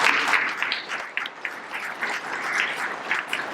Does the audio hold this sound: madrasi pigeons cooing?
no